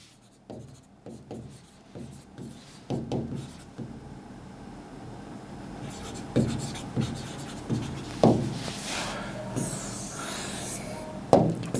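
A pen writing on paper while a physics diagram is drawn: quick scratchy strokes in short bursts, with taps and pauses between lines, fairly close and quiet, building into heavier strokes near the end.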